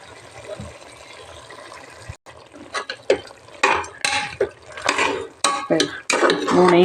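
A spoon works ginger paste into chicken in a pot, building from quiet scrapes into louder, wet clanking and sloshing strokes against the metal.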